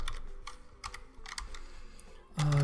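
Typing on a computer keyboard comes through as a few quick clusters of clicky keystrokes, close and moderately loud, ending in a brief tonal beep-like sound.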